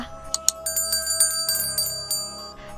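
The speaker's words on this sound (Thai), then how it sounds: "กดกระดิ่งเพื่อรับการแจ้งเตือนคลิปใหม่ก่อนใครด้วยนะคะ" A notification bell effect rings with a run of bright chimes and a few quick strikes. Sustained ringing tones layer underneath, clear and close with nothing else heard.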